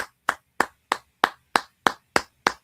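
Nine single sharp hand claps in a steady, evenly spaced rhythm, close and crisp, with silence between each.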